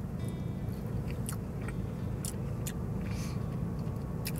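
Close crunching chews of a carrot piece from a KFC pot pie, a steady run of soft bites over a constant low rumbling background, with no talking.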